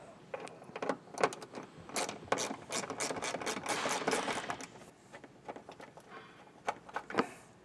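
Ratchet wrench backing out a 10mm screw behind a tail light panel on a 2025 Hyundai, giving repeated quick clicking bursts up close, loudest in the middle and tapering off, with no talking.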